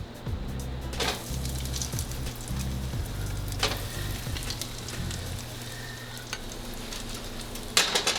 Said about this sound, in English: Gonna fry that for about 2 minutes till they're golden brown on each side.